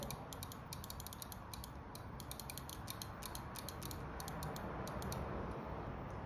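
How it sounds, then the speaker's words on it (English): Rapid ratcheting clicks from bike brake clickers, chattering in quick bursts over a steady rush of wind and rolling noise. "Along with some custom brake clickers"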